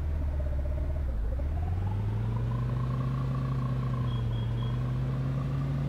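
A car driving in the Roblox video game gives off a steady, loud low engine drone that rises in pitch as it speeds up, with no talking.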